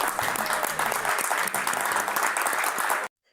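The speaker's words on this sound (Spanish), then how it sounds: "Vamos a aplaudirlos" A crowd claps continuously in a thick, even wash of applause that cuts off abruptly near the end, with no voices over it.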